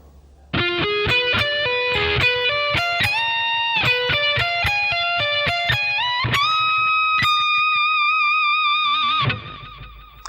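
Distorted electric guitar plays a solo phrase: a fast run of picked notes climbing into sustained bends that are let down slightly, loud and close with no voices.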